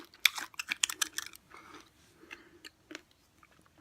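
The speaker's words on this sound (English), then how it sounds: "you gotta hear me crunching" Crunchy Jordan almonds being bitten and chewed close to the mic, a quick burst of sharp crackling bites followed by sparser, softer chewing crunches.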